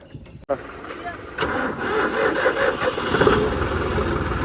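A John Deere 55 tractor's diesel engine starts after preheating: a sharp click, then the engine catches and settles into a steady, loud idle. Voices talk faintly underneath.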